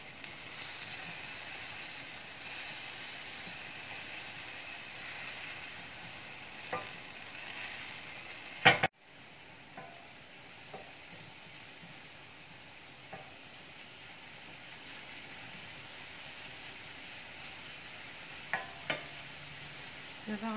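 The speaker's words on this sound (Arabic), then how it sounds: "نبدا نشحر مزيان هاد البصيلة حتى طيح" Chopped onion frying and sizzling steadily in a pan while being stirred for chicken masala, a continuous close hiss with a sharp clatter of the spoon partway through and occasional soft knocks.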